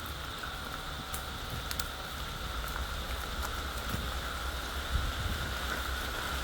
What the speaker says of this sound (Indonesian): Hujan semakin.